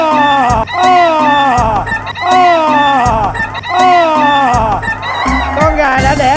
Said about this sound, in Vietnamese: Con gà đã đẻ rồi.